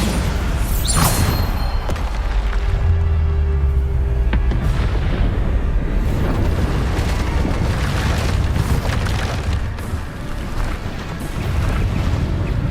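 Bombarda explosion spells in the Hogwarts Legacy video game go off amid loud battle noise: a sharp blast near the start followed by dense, continuous rumbling and crashing effects with a heavy low boom, no voices.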